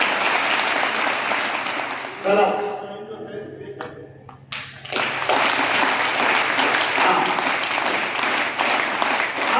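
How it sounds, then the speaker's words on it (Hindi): A hall full of schoolgirls at a girls' inter college claps loudly in dense, continuous applause, breaks off briefly while someone speaks, then bursts into sustained clapping again to the end. "बजा के देखो ताली कैसे बजाते हैं।"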